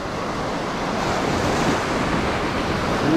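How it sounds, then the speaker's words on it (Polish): Steady surf roars close by as waves wash and break continuously on the shore, with a light wind hiss over it. "Te fale."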